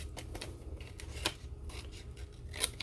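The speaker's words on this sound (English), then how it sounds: "I can cut in an X shape to the outer edge of my little opening here" Scissors snip an X shape into pre-printed paper for a scrapbooking project, giving a run of soft, close cutting and rustling sounds with a couple of sharper snips, quiet and with no voices.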